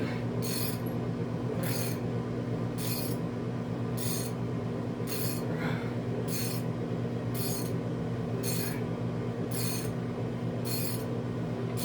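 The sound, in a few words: wrenching loose cylinder head bolts on L98 engine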